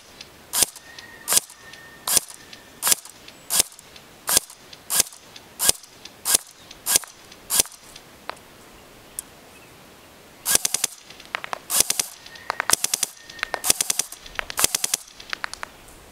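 A Cybergun M14 Socom airsoft electric rifle fires at a target 100 feet away: a string of about a dozen evenly spaced single sharp cracks, then a denser, quicker volley of shots, loud and close with no talking.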